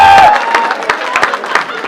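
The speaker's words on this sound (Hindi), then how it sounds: "अच्छे से तालियां ठोको यार।" Audience at an engineering college freshers' party claps and cheers in a steady, dense burst of applause with crowd noise, close and fairly loud for about two seconds.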